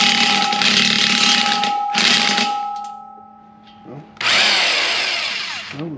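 Bursts of a power tool whirring close by as teeth are loosened on a Prinoth M450e-900 snow groomer, with a steady whine, pauses between runs, and a voice speaking briefly in a gap.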